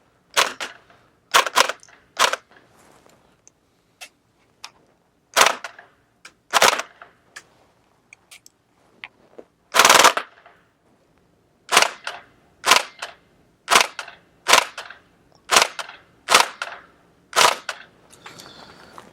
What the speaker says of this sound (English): I'm going to try the H&K UMP gas blowback rifle